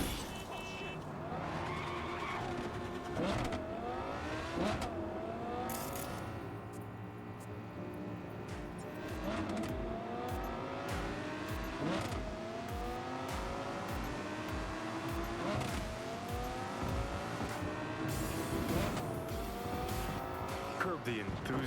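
A car driven in Cyberpunk 2077, engine revving up and down through repeated gear shifts with tire squeal, loud and continuous, while music and voices run underneath.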